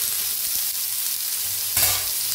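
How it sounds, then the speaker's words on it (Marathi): Onion and tomato frying in a little oil in a pan give a loud, continuous sizzle with light stirring, swelling briefly near the end. "आता त्याच्यातच टमाटर बी भाजून घ्यायचं"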